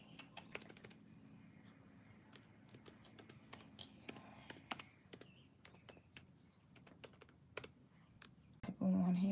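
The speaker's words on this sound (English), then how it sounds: "Type on one hand, it takes forever." Quiet, irregular typing with one hand on a computer keyboard gives scattered soft key clicks at an uneven pace, ending with a brief louder rustle.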